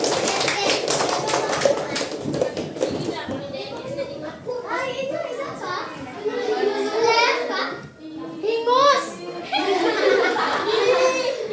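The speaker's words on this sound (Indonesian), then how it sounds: "Ya, tepuk tangan." A fifth-grade elementary school class claps along with lively children's voices and chatter, bursts of handclaps and laughter mixed through a noisy classroom.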